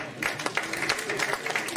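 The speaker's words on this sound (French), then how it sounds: "On peut l'applaudir bien fort, Jean-Louis Clare." A press conference audience at a rally event on the Côte d'Azur applauds a former rally driver, a brief spell of scattered, moderately quiet clapping from a modest crowd.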